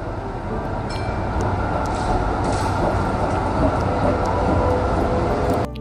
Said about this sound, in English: This is a tram car.